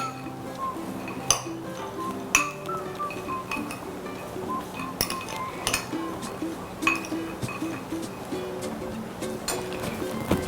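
A spoon mixes sprout chaat in a bowl, making repeated sharp clinks against the bowl at an uneven rhythm over a soft background hum, close and clear, with no speech.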